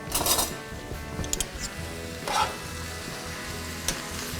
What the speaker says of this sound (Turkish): Soğanı kavuruyorum.